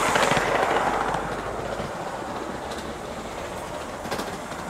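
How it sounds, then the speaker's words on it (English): The safety valve lifts on an Aster gauge 1 live steam locomotive of the Titfield Thunderbolt, giving a steady, loud hiss of escaping steam that starts strong and eases slightly, close by and with no talking. "Safety valve just lifted."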